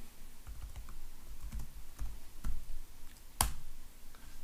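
Keyboard shortcuts are tapped on a computer keyboard, a few close, distinct key clicks spaced irregularly, with one sharper, louder press near the end.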